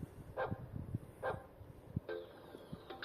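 A recorded dog bark plays as the alarm-lock signal of an Urtopia carbon belt-drive electric bike, two short woofs followed by a brief electronic beep, moderately loud over a faint background.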